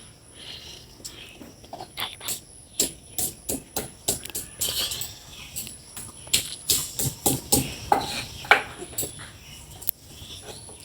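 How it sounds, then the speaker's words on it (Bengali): Spices are ground together by hand on a grinding stone in a village kitchen, giving a long run of sharp rhythmic knocks and scrapes, close and fairly loud, with no voices. "একসাথে আমি বেটে নিব, দেখতে থাকো তোমরা"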